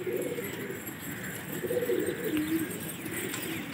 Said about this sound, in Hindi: ये दो कबूतर और निकल के आए वहां से,